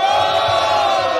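A crowd at a Brazilian rap battle shouts together in a loud, sustained roar of voices, close and dense, with some rhythmic low thumps underneath.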